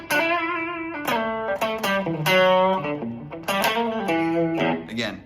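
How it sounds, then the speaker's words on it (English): An electric guitar plays a bluesy phrase on a clean amp channel with a boost pedal and reverb, giving a light, slightly driven tone with sustained, ringing notes throughout. "Now I put my boost still on that clean channel. It'll be like a light distortion or over bluesy sound."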